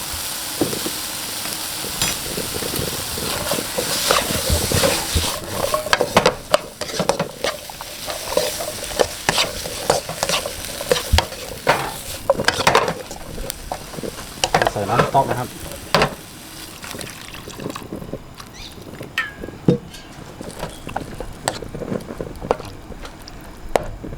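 Vegetables and tofu stir-fried in a wok with seasoning powder, a steady sizzle broken by repeated scraping and clattering strokes of the spatula, close and fairly loud, with no talking over it.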